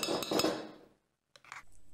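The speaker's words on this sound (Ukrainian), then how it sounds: "Зараз вона ложку взяла, і цією ложкою оце там щось виколупує з блендера." A spoon scrapes and clinks against the inside of a blender jug while preparing syrniki, a few sharp metallic scrapes close by, then a pause and a second brief burst of clinking.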